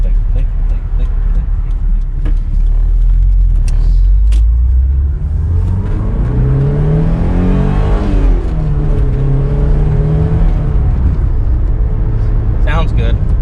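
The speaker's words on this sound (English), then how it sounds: "I love the slightly tight belt whine of these 944s, and it feels like such a clean, sharp motor" A restored black 1980s Porsche 944 engine runs and revs under load, a loud steady rumble with rising and falling pitch sweeps, while a slightly tight accessory belt adds faint whine above it.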